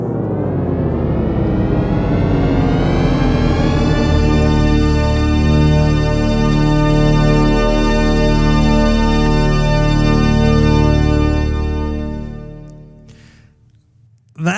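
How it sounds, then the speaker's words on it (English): THX Deep Note theater sound logo: a dense cluster of synthesized tones gliding from a low murmur into a huge sustained chord that swells loud and full before fading out, followed by a brief sound at the very end. "But this is the original sound of the THX."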